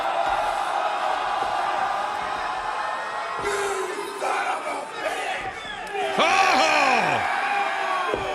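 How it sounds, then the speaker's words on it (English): Wrestling arena crowd roaring and cheering loudly and continuously, with whoops and yells swelling near the end, while a commentator calls the action over it. "Listen to the crowd here. They love the Outrunners"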